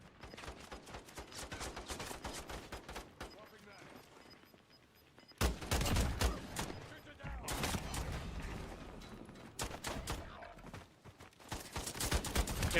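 Video game gunfire, rapid bursts of shots and sustained automatic firing that come and go over a dense, loud battle mix, heard close throughout.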